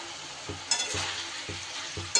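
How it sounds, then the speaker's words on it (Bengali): Onion stalks frying in a pan over a low flame, covered between stirs: a steady, soft, close sizzle throughout, with a few faint knocks and a brief louder crackle near the end. "ঢাকা দিয়ে দিয়ে লো ফ্লেমে এইভাবে কিন্তু পেঁয়াজকলিটা আমার সুন্দর করে ভাজা ভাজাও হয়ে গেল আর সিদ্ধও হয়ে গেল"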